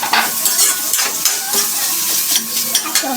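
Garlic sizzling in hot oil in a pan, stirred with repeated scraping and clinking of a utensil against the pan, loud and close with no talk.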